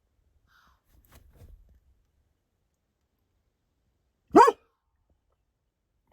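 A single sharp dog bark at a deer rings out clearly in a quiet setting, preceded by faint low rustling.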